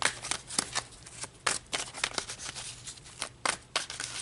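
A deck of tarot cards being shuffled by hand during a reading: quick, crisp riffling and slapping bursts in an uneven rhythm, close and fairly quiet, with no voices.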